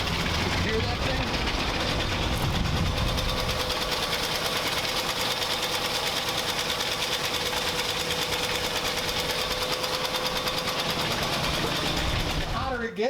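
A 1961 truck's engine idles steadily and loudly, with a fast mechanical tapping or ticking from a suspected bad cam or valves running throughout, ending abruptly near the close.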